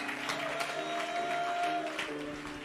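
A church congregation at a Sunday service applauds and cheers in acclaim of Jesus, a sustained, moderately loud roar of clapping mixed with crowd voices and some tonal sound from the room.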